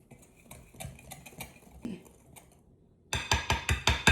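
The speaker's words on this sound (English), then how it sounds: "this we're gonna whisk it together until it's well combined" Dry hushpuppy ingredients, meal, flour and salt, whisked together in a bowl: a soft scraping stir with light clinks, then from about three seconds a run of louder, rhythmic metallic whisk strokes against the bowl.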